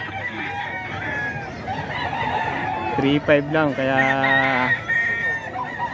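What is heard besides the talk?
Thompson White gamefowl rooster crowing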